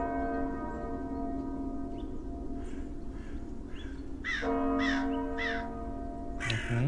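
Several crows caw in distinct bursts over a sustained tonal drone and background ambience in the Eastern European, late-19th-century setting of the vampire game Cabernet, with calls clustered in the second half.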